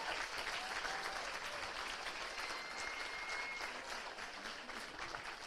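Sustained audience applause for the chief organizer at a community event, a steady dense wash of many hands clapping at moderate distance, with no talk over it.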